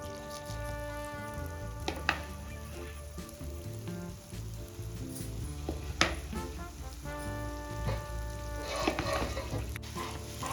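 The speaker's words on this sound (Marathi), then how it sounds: "आता आपल्याला ही डाळ छान मिक्स करून घ्यायची आहे तुपामध्ये आणि छान भाजून घ्यायची आहे" Ground moong dal and semolina roast in ghee over a low flame, giving a continuous soft crackling sizzle with occasional scrapes of a spoon stirring the mixture; no talking.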